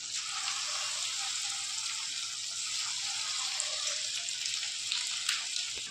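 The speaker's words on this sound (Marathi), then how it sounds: "तेलामध्ये बघा असं फ्राय होत आहे आपला आता चिकन 65" Chicken 65 pieces deep-fry in hot oil in a kadai, making a steady, moderately loud bubbling sizzle that hisses evenly throughout with occasional small pops and no voices.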